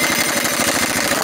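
A compressor-driven pneumatic impact tool hammers at a fastener on a Vanagon waterboxer engine part during a rebuild, a loud, close, continuous rapid rattling buzz that persists steadily without any talk.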